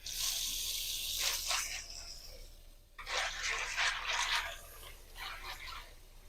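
Water pours into a bowl of red kidney beans in two bursts of splashing and trickling, quiet and close, with no talk.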